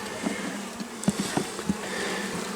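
Honey bees buzz around an open hive frame in a small colony, a soft continuous drone broken by a few sharp close passes and light clicks of insects flying near.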